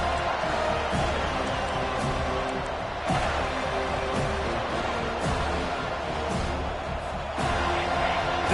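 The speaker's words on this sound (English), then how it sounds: "Decibels rising as the crowd gets behind this defense on 3rd down." A football stadium crowd at Georgia vs FSU roars on third down, a dense, loud, sustained wall of cheering with a few sharp peaks, while a commentator talks over it.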